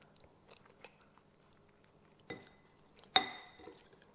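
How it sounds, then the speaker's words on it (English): Breadcrumb-coated shrimp mix being chewed in a home kitchen, with faint quiet crunching and two sharper bites near the end, close and soft with no talking. "I like to taste the breadcrumbs just to make sure that the mix is what I want it to"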